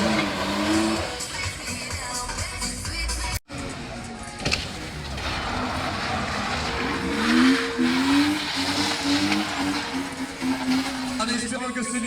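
Stunt car performing U-turns at the end of a track during a stunt show in Abbeville, engine revving and whining with rising and falling pitch, tyres squealing, heard amid crowd noise and an announcer speaking.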